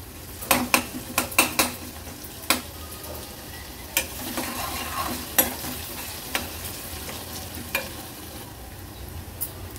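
Finely chopped green chilli sautéing in hot oil over a high flame, a continuous close sizzle punctuated by repeated sharp clacks and scrapes of a spoon against the pan at irregular intervals, no voices.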